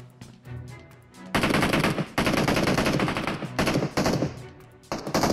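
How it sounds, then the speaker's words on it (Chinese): Automatic gunfire rattles out in long, loud bursts separated by short pauses, fired from buildings in the Peace Elite shooter game. "一号楼、二号楼都在发出枪声，他们可能在打呆机"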